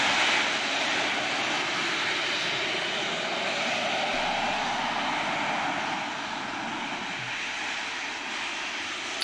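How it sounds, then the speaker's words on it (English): Steady, loud roar of a privately owned Harrier jet engine, a continuous broadband rush that holds level for about nine seconds with no voices over it. "it's like the world's only privately owned Harrier jet"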